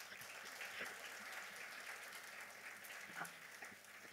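An audience at a French-language talk or presentation applauds a speaker, giving sustained, even clapping that fills the room for several seconds with no voices over it.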